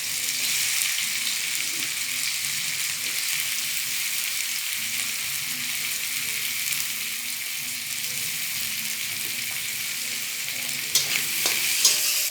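Bombay duck fish fry in hot oil with a steady, close bright sizzle throughout, alongside a few faint clinks near the end.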